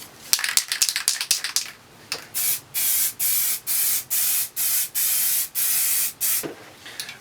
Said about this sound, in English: I'm just going to give this a little bit of a base coat over, little spray, little grab coat